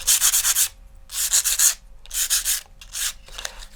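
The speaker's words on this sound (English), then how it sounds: "I'm just going to take some sandpaper, just kind of round off my corners a little bit" Sandpaper rubs rhythmically against the corners of a paper model rocket tube, four close, bright scratchy strokes with brief pauses between them, no voices.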